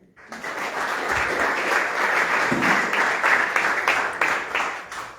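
An audience claps, with dense applause that swells quickly and holds steady for several seconds before thinning slightly near the end.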